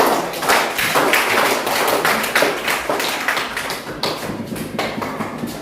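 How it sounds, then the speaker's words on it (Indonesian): Pupils in a classroom clap for a group that has just presented, a loud, busy patter of many hands with some rhythmic beats running throughout. "Tepuk tangan untuk kelompok"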